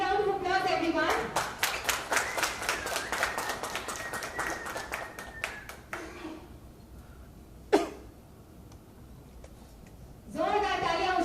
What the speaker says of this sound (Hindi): Big round of applause everyone.